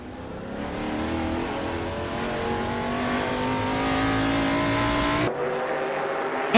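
Chevrolet Monte Carlo race car in a racing video game, its engine droning and revving steadily louder for about five seconds before cutting off abruptly, leaving a quieter tail of sound.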